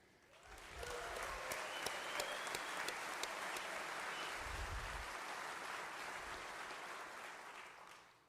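A large audience at the 2019 Oklahoma State of the State address applauds honored guests, a dense, steady wash of clapping that swells in, holds for several seconds, then fades away.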